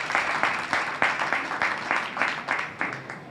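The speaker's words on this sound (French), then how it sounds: "merci l'audience d'applaudir" An audience applauds at a building trade fair, the International Building Exhibition at the Mohammed VI exhibition park in El Jadida: steady clapping with rhythmic peaks from a crowd, fairly near, lasting a few seconds with no talk over it.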